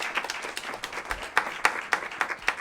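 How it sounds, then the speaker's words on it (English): An audience applauds two women guests at a live success-themed interview event, with brisk, uneven clapping from a moderate crowd, some sharper individual claps standing out near the front. "big round of applause for both of our ladies"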